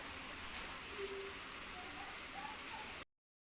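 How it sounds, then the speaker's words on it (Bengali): Heavy rain falls in a steady, unbroken hiss on an outdoor scene, the wash of water filling the space at an even level with faint background voices or tones drifting under it. "অঝরে বৃষ্টি হয়েই চলেছে"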